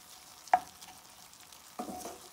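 Ground meat mixture cooks quietly in a pan, a soft sizzle broken by a sharp utensil tap and a later burst of stirring scrapes, faint and close.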